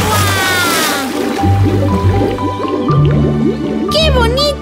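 Cartoon water sounds, bubbly splashing and a series of quick drips and plops, mixed with whimsical music and animated voices speaking over them.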